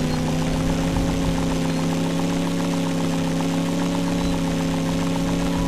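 A vehicle engine in Banjo-Kazooie: Nuts and Bolts runs steadily with a loud, constant mechanical hum and whirring drone, unchanging in pitch and level for the whole stretch, with no voices.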